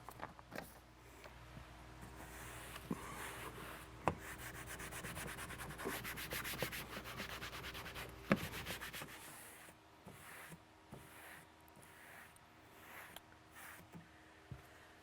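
Paper towel wet with alcohol being rubbed over the cargo area surfaces of a two-door Ford Bronco, a close, faint, repeated scrubbing and rubbing in bursts with a few small knocks.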